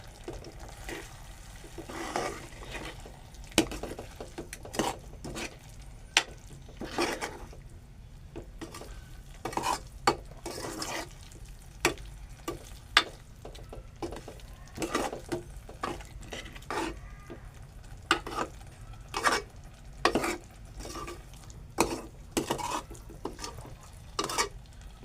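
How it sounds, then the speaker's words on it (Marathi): A taro leaf vegetable dish is stirred in a pan, with repeated scraping and clacking of a spoon against the metal and a faint sizzle beneath, close and loud in an uneven rhythm. "पण ढवळून घेऊया भाजी परत."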